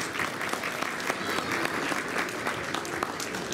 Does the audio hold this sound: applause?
yes